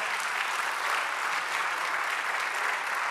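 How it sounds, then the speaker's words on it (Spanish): A church congregation applauds, dense steady clapping from many hands that carries evenly through the room without a break. "Un aplauso, Señor."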